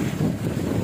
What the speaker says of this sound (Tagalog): Grabing lakas din ang hangin.